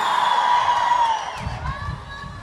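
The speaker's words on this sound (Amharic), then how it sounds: "ከዚህ በላይ ጩኸት ካላችሁ ለኢየሱስ አሰሙለት ሃሌሉያ" Church congregation shouting and cheering for Jesus, a loud crowd roar with high ululating whoops swelling then easing, voices blending together.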